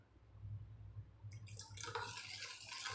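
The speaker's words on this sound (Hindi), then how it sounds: "इतने मैंने कर लिया है और थोड़ा पानी डालेंगे" Water poured into a potato snack batter in a bowl, a faint low hum giving way to a soft, splashy pouring trickle that continues to the end.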